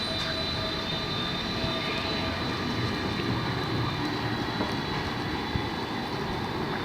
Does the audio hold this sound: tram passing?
yes